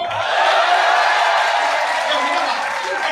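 An audience at a poetry recital (mushaira) at a university claps steadily in a dense, continuous wash of applause that holds for a few seconds.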